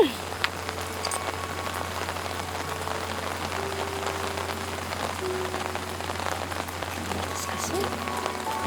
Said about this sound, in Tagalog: Ay, lakas naman ang ulan.